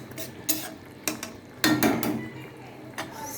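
Pomfret fish curry cooked with eggplant in mustard paste is served, with a few distinct clinks and scrapes of a utensil against dishes spaced through a quiet kitchen, close and moderately loud.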